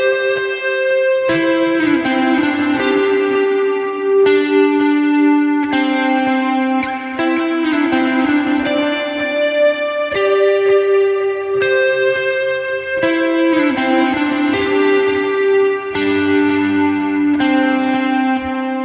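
Electric guitar run through effects playing the bridge of the worship song Christ In Me, ringing sustained chords and high octave notes with chorus-like shimmer, loud and close, no speech.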